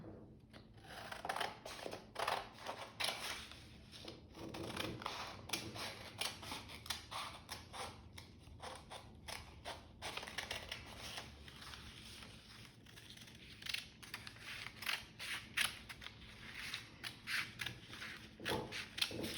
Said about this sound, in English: now you are going to cut along these lines, but do not cut all the way to the end